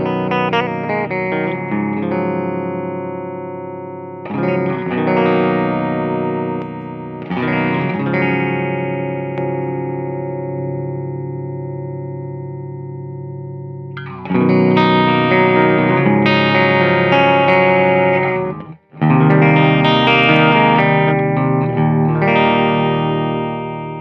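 An NRG Effects PUMPER-072 MKII pedal processes sustained electric guitar chords, its pumping, modulated tone swelling and cutting in bursts before a louder, denser passage, with no voices.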